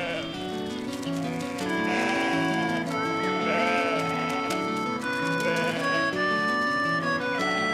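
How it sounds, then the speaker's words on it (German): A flock of sheep bleats on a pasture, overlapping calls layered with tonal, sing-song voices and music, continuous and fairly loud. "Zuerst müssen wir die Schafe auf der Weide zusammentreiben."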